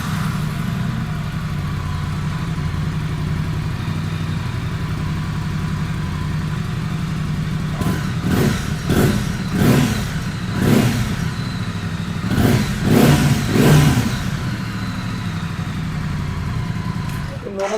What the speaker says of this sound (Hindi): स्टॉक एग्जॉस्ट के अंदर 900 सीसी का मोटर लगी है तो काफ़ी अच्छी आवाज़ देती है